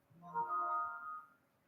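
A phone rings once, a short tonal electronic chime that swells and fades, fairly faint and heard alone.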